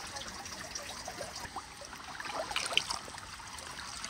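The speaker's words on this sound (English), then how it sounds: "it ends out in a ice cold little waterfall" Small ice-cold waterfall in the northern Yukon wilderness, giving a soft, steady trickle and splash of water, faint and close with no speech.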